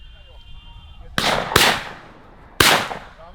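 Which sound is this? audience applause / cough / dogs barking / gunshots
gunshots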